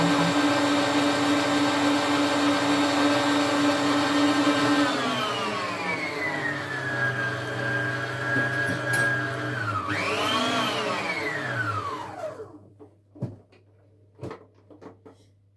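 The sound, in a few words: electric mixer beating eggs and sugar for sponge cake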